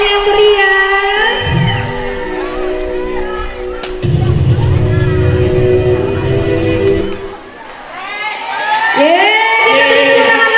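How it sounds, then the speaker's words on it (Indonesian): Audience at a Grade 6 farewell ceremony at an Indonesian primary school cheering and clapping loudly, children shouting and whooping, with an amplified voice speaking over the crowd at the start and end. "Boleh beri tepuk tangan yang meriah."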